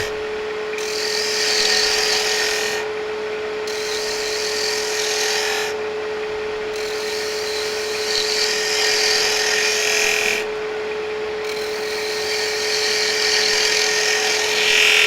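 A small wooden box with a Japanese look spins on a wood lathe as a tool cuts the lid crown, giving a steady high whirring hiss broken by several brief pauses where the cutting stops, with a constant motor hum beneath.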